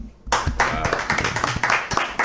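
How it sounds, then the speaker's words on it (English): A small audience breaks into sharp, brisk clapping that starts abruptly and continues steadily at close range, with no voices over it. "I just want gratuitous applause"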